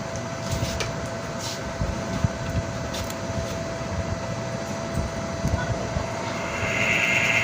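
A rewound 36-slot washing machine motor running on a test board makes a steady, even hum with a faint tonal whine that holds for the whole stretch, with no break in the sound.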